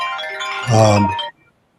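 A phone gives a short melodic ringtone or notification chime, close and clear, that stops abruptly into silence.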